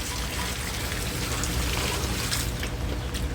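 Fresh water pours into a drum used for raising catfish, making a steady, close rushing splash that holds constant throughout with no talk.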